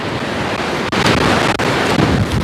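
Strong wind buffeting the microphone over rolling sea waves at the shore, a loud continuous roar with no voices.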